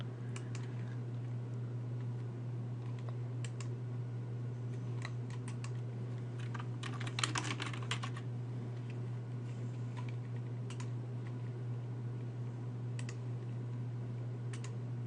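Fast, light keystrokes on a computer keyboard come in short bursts against a steady electrical hum, with a dense cluster of clicks midway and scattered single taps elsewhere, all quiet and close.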